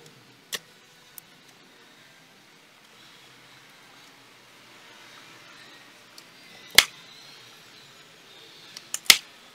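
Huawei MediaPad KOB-W09 tablet screen releasing its adhesive during disassembly, a few sharp isolated clicks and snaps spaced across a quiet room, the last ones louder.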